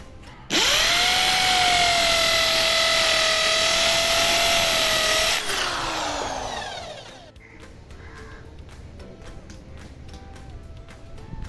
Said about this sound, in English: After the marking, let us drill the hole.